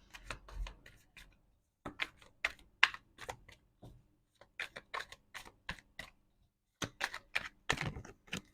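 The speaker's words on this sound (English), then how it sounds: "No card is falling. I'm like shuffling the cards." Tarot cards shuffled by hand in bursts of crisp riffling and tapping, close and fairly quiet, with brief pauses between runs and no talk.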